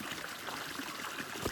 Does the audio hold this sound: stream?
yes